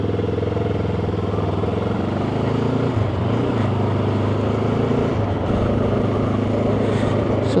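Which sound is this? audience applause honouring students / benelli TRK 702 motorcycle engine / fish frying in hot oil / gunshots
benelli TRK 702 motorcycle engine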